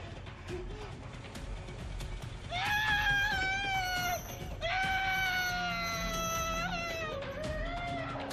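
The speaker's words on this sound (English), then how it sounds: "I want you to scream." A woman screams in a 2018 dramatic film scene: two long, loud, sustained wailing screams with a short break between them, over a low background rumble.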